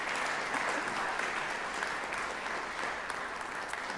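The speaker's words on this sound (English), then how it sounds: "Now you may applaud, yes." Sustained applause from a university music school honors convocation audience, a dense even roar of clapping filling the hall throughout without pause.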